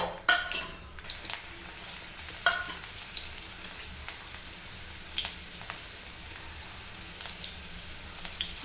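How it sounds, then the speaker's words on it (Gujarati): Finely chopped garlic sizzles in hot ghee for a dal tadka: a quiet, continuous hiss near the pan, punctuated by a few sharp clicks and scrapes of a spoon stirring, with no voices. "હવે આપણું ઘી મૂકેલું આવી ગયું છે તેમાં આપણે ઝીણા ઝીણા લસણના ટુકડા મૂકવાના છે"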